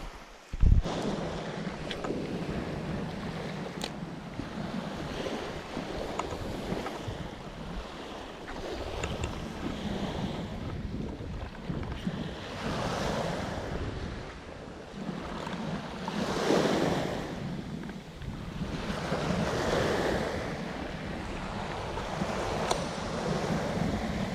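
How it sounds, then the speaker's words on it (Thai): Strong wind blowing across a seashore during squid fishing from the coast, with surf washing in and steady gusts buffeting the microphone, rising and falling in broad waves for the whole stretch. "ลมแรงจริงทุกคนค่อนข้างจะแรง"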